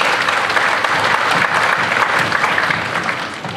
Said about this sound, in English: So we want to give a round of applause for that.